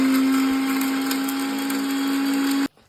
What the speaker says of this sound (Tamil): ஜிஞ்சர், garlic, பட்டை, கிராம்பு, ஏலக்காய் எல்லாமே சேர்த்து நல்லா மிக்ஸ் பண்ணி ஒன்று அரைச்சாச்சு